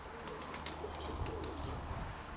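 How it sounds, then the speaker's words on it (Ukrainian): A dark grey pigeon coos softly in a quiet room, a low repeated murmur with faint background rustling. "Це начебто голубка темна"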